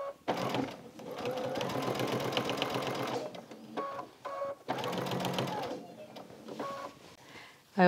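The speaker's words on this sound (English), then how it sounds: "And just sewing away." A sewing machine stitches a quilt-as-you-go strip in fast rhythmic bursts, running several seconds, stopping, then starting again, with short pauses in between.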